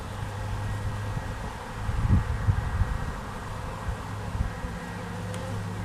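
Field honey bees returned to a hive frame hum in a steady, low, dense drone that persists throughout, with some wind noise and brief handling thumps in the middle.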